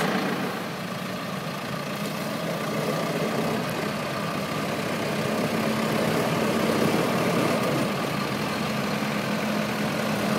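Claas Arion 540 and Fendt 311 tractors running together while pulling out a stuck trailer, their engines giving a steady, continuous diesel drone with low rumble and no talk.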